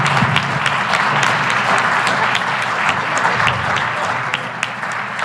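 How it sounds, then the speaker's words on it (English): A large audience at a Philadelphia political rally applauds, a steady dense wash of many hands clapping for several seconds with no pause. "So we owe you a big round of applause."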